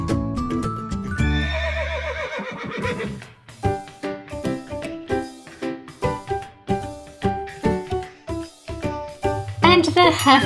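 Haflinger mare and foal neighing: a long loud whinny at the start, then a rapid run of sharp snorting calls and hoof-like knocks, with a second whinny near the end.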